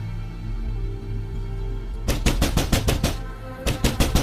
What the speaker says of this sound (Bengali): কে কে দরজা ধাক্কায়?